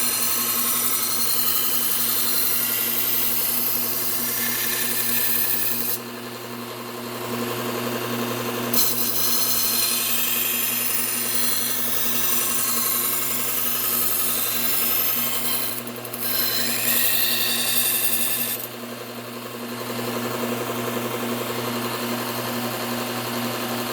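A Chicago Cutlery knife edge damaged by a pull-through sharpener is honed on a stone to raise a burr, making continuous steady rasping strokes with brief pauses between passes.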